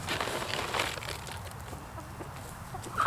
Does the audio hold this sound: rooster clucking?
yes